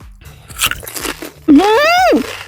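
Biting and chewing fresh fruit picked straight from a garden tree, a few close crunchy bites, followed by a drawn-out, pleased hum from the person eating.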